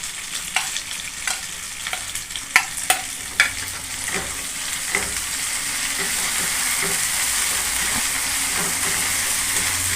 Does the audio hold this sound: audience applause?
no